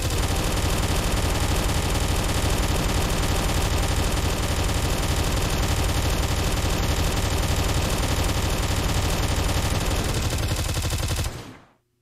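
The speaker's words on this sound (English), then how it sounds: "That's a gun! He has a fucking gun!" Gunfire from a gun in the game Vomitoreum roars as a loud, unbroken stream of rapid shots, then cuts off abruptly near the end.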